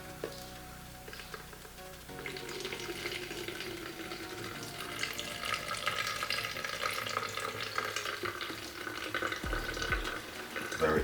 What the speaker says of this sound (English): So we're just gonna run it through our strainer.